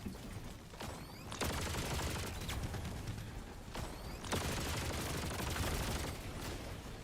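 Enemy gunfire in the video game Helldivers 2 crackles in dense bursts of rapid shots, several loud sharp volleys separated by short lulls, with no talking.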